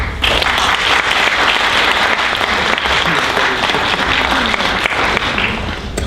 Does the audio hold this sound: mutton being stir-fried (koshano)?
no